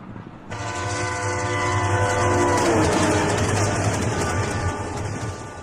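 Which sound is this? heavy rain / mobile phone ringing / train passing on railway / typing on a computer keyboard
train passing on railway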